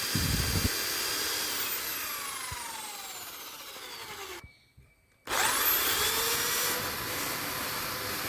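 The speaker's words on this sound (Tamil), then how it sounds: "இப்போ வந்து நம்ம ட்ரில் வந்து போட்டு எடுத்துக்கலாம்." A power drill whines steadily as it bores holes in metal on a TVS 50 electric conversion, with pitch sliding as the bit bites, then a brief pause before drilling resumes loudly.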